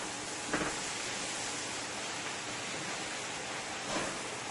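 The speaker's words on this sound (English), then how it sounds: "I'm going to let this saute for about 2 to 3 minutes." Spinach sautéing in a pan of rich butter sauce, a soft continuous hiss with faint crackle and two brief louder stirring swells; quiet and steady, with no speech.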